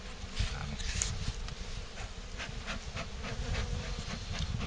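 Honeybees from a snow-season swarm buzz densely at a Dadant hive during a transfer into a nucleus box, a steady close hum with individual bees zipping past now and then.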